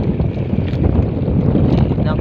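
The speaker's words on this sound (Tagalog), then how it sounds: "palakas na ng palakas yung hangin. Sabay yung alon." Strong wind buffets a small fishing boat far out at sea, with waves churning around the hull in a steady, loud broadband roar close to the microphone.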